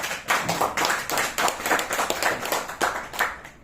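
Rhythmic clapping from an audience at a motivational session, a string of sharp, evenly spaced claps that lands roughly twice a second, near and fairly loud with no talking.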